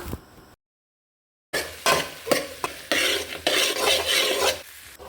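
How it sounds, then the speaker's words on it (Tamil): Onion and okra (ladies finger) being stirred and sautéed in a pan for a home-style poriyal, with sizzling and repeated utensil scrapes; a short silent gap breaks it early on. "லாஸ்ட்டாக நம்ம கட் பண்ண நம்ம வெண்டைக்காயும் சேர்த்துடலாம்"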